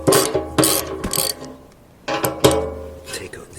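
A ratchet fitted with a 10mm socket works the fuel tank nuts on a Royal Enfield Continental GT 650, with several close bursts of rapid clicking broken by short pauses.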